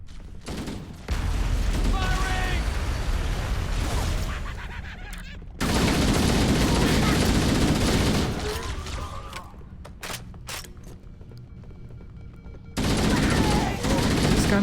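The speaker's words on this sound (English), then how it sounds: "Are these gunshots a little too loud?" Rapid bursts of gunfire in Halo: Combat Evolved crackle loudly in long sustained volleys, pausing briefly between bursts, with game sounds and faint voices in between.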